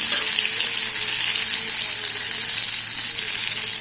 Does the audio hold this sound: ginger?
yes